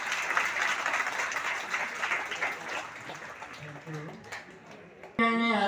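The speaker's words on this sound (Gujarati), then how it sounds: "ફરી તાળી પાડો।" An audience at a retired teachers' gathering claps in a sustained burst of applause that gradually fades, followed by a voice and a brief tonal sound at the end.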